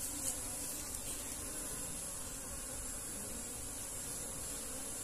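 Honeybees buzz steadily at a backyard hive kept by a beekeeper, a dense, continuous swarm drone at low, even volume with no voices.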